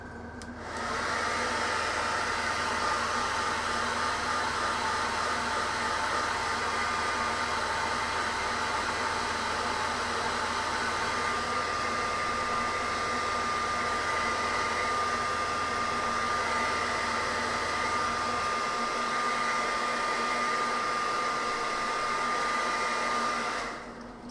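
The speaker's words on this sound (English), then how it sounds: "Hairdryer again," A hairdryer on its cold setting runs continuously on a Knight Armiger model for over twenty seconds, a loud, even blowing hiss with a faint high whine that shuts off at the end.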